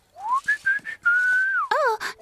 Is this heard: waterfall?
no